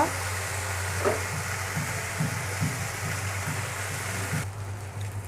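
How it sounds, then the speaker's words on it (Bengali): Fried hilsa fish heads cooking with taro leaves in a pan, a steady low sizzle with soft periodic scraping strokes of stirring, close and quiet, ending with a faint drop-off. "এখন আমি দিয়ে দেবো ভেজে রাখা ইলিশ মাছের মাথা। ভালোভাবে নেড়ে চেড়ে আরও কিছুক্ষণ আমি রান্না করে নেব।"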